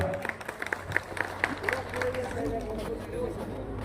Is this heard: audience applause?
yes